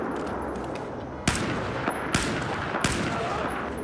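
Gunfire in a video game firefight: three loud, sharp shots stand out over a dense, constant battlefield roar, with no speech during the shots.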